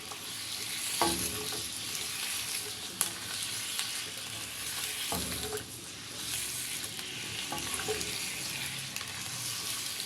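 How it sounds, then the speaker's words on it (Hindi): Potatoes fry in hot oil for an aloo gravy, crackling in a continuous close sizzle while a spatula scrapes and stirs every few seconds; no one speaks. "आलू डाल के हम इसको अच्छे से ऑयल के अंदर हम भूनेंगे।"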